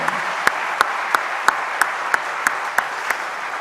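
Church congregation at a Christmas Sunday worship service clapping, a steady wash of applause with a regular series of sharp, evenly spaced louder claps cutting through about three times a second.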